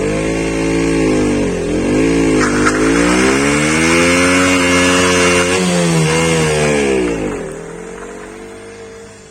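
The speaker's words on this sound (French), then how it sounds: "le petit burn pour bien terminer le pneu, pour finir en beauté" A KTM RC 125 motorcycle does a burnout on new tyres, its engine screaming loudly and close, revs rising and dipping repeatedly before the engine winds down at the end.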